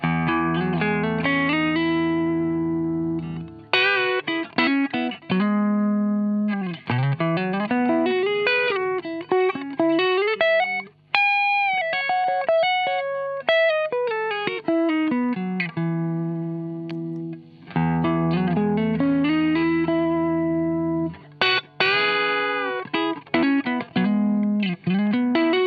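Electric guitar played through a Digitech Clone series pedal on a low gain setting, giving lightly driven chords and single-note lines that ring out continuously at a steady, moderate level.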